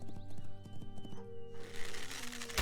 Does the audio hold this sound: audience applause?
no